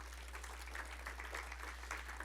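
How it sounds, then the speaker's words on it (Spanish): A church congregation applauds for Jesus. The clapping is soft, distant and steady over a low electrical hum, and nobody speaks. "Dele ese aplauso a Jesús"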